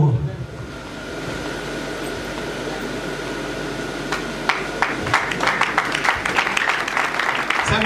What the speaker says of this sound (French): On peut applaudir très fort pour eux.